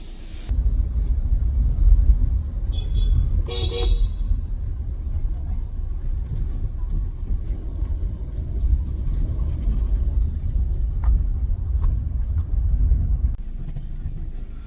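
A car being driven, heard as a steady low engine rumble and road noise throughout, with a brief higher chirp or squeal near the start and no talk.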